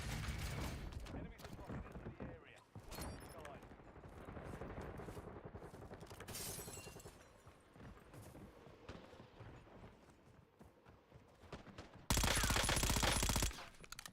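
Rapid bursts of automatic gunfire fired into the air in Call of Duty Warzone, set in Verdansk, crackling loudly in clusters with a sharp closing volley, while a player talks over the shooting.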